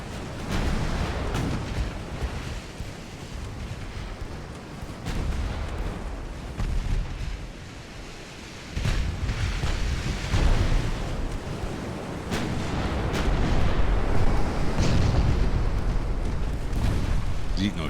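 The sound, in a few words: naval gunfire hitting ships in Ultimate Admiral: Dreadnoughts video game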